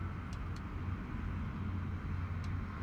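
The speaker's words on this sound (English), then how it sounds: "why does it sound like a plane's about to take off into me?" A steady low engine-like rumble, close and constant, in Microsoft Flight Simulator 2024, like an aircraft spooling up before takeoff, with a few faint high ticks on top.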